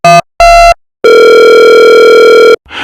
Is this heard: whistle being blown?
no